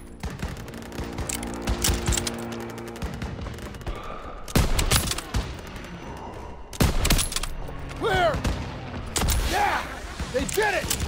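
Bursts of gunfire in a Call of Duty WW2 battle, loud volleys and rapid machine-gun fire with sharp impacts, heavy blasts near the middle, and shouted voices between the shots.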